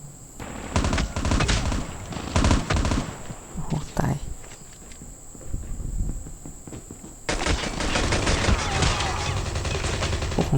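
Rapid gunfire bursts in the mobile shooter game Call of Duty Mobile, clusters of loud shots in quick succession with pauses between, then a denser stretch of firing near the end.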